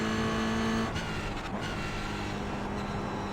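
Race car engine in a racing video game, a steady loud drone at high speed running in a slipstream behind a Toyota, continuous and close throughout.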